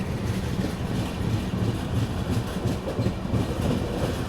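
The Bihar Sampark Kranti Express running on the tracks near Kanpur Central, heard from inside as a steady loud rumble with a faint rhythmic clatter of wheels, with no voices.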